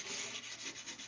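Wood being hand-sanded with 120-grit sandpaper on a scrap-wood knife box, a quick series of close, steady rubbing strokes with a gritty hiss.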